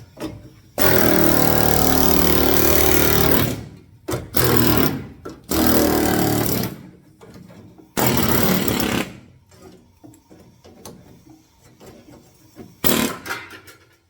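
An air chisel cuts into the steel body panel of a Datsun Z in a garage, firing in loud rapid bursts of several seconds with short pauses between them.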